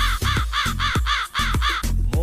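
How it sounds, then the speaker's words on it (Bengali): A crow caws repeatedly in a steady rhythm, about eight loud harsh calls in quick succession, close and clear with no talking. "দুষ্টু কাউয়া ডাকে রে"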